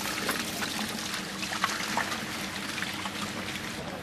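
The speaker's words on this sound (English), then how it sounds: "you see how the water flows down the steps, down the side of the steps" Water pours and trickles steadily down the sides of outdoor terrace steps, a continuous close splashing flow with small bright drips scattered through it.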